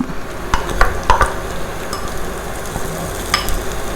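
Surf clams stir-fried in a pan over a hot stove: a steady background sizzle broken by a few sharp clinks and scrapes of a spatula, fairly close.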